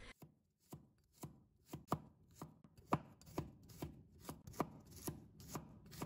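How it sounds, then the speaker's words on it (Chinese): A knife minces peeled garlic on a cutting board in quick, fairly regular chops, about a dozen crisp close taps in a quiet kitchen. "然后再给它切成蒜末"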